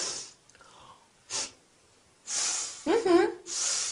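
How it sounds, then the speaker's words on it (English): A person gives a few short, sharp sniffs through the nose to show disapproval, spaced apart and close by, with brief voiced sounds between them. "How do I show disapproval? Easy. You sniff."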